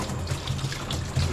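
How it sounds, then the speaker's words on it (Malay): Water splashes and trickles steadily into a pot during work on an outboard boat engine, a continuous close pouring sound with a few brief gurgles. "Okay, kita isi air."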